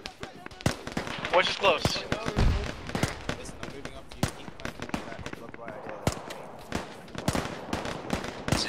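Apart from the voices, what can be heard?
gunshots in ArmA 3 video game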